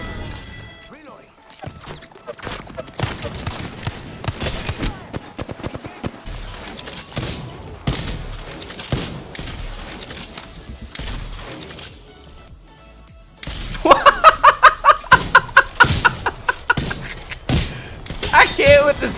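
Gunfire in the battle royale game Apex Legends, with a long stretch of scattered shots followed by a dense run of loud, rapid bursts near the end, mixed with a player talking.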